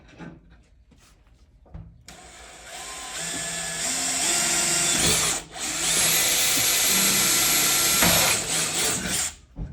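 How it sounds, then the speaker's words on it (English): A power drill whirs steadily at high pitch, briefly pausing and changing speed as it bites into aluminum while installing a gear hinge, loud and close with no talking. "Little trigger control too when you're drilling in."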